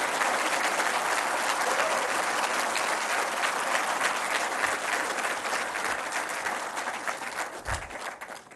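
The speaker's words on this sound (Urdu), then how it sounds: "یہ جو تالیاں جو ہیں وہ ریفلیکٹ نہیں کر رہی ان کی قابلیت کی" An award ceremony audience breaks into sustained applause, a thick, continuous roar of clapping that fills the room and tapers off slightly toward the end, with no talking over it.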